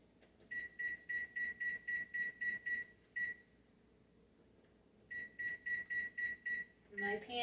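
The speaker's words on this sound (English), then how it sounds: "I'm going to set my timer" An oven timer beeps in a kitchen: a quick run of about nine evenly spaced electronic beeps, a pause, then another run of similar beeps, fairly clear over a quiet background.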